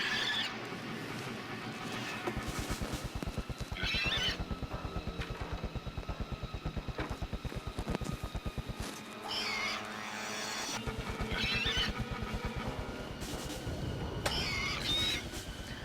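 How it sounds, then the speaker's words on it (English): Pig-like squealing from ants in the video game Jet Force Gemini, a few short high-pitched squeals around the four, ten and fourteen second marks over steady game music and effects, with no talking. "I wonder if ants really sound like pigs."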